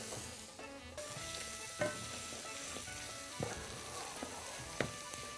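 A shepherd's pie filling fries and sizzles in a pan with stock cube, thyme and rosemary while a utensil stirs it, giving a steady close hiss punctuated by several scraping clinks.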